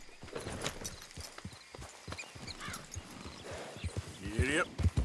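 Horse hooves clip-clop at a steady walking rhythm in the Red Dead Redemption 2 video game. Hoof clicks repeat throughout, with soft game ambience and a brief voice under them.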